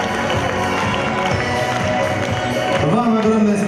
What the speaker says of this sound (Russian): Ну и, естественно, ваши аплодисменты.